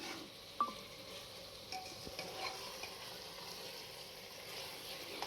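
Goat meat being stirred in a pan with spices, a soft continuous sizzle and scraping of the spoon against the pan, with a sharp clink near the start, fairly quiet and close, no talking.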